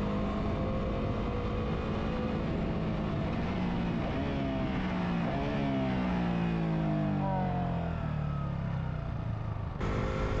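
A motorcycle accelerates through a series of quick, smooth gear shifts, its engine note rising and dropping with each change, loud and close with no talking.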